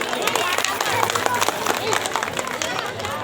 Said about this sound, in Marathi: तुम्ही सर्वांनी जोरदार टाळ्या वाजवल्या, पण त्यांना अभिवादन करण्यासाठी सगळ्यांनी जोरदार टाळ्या वाजवल्या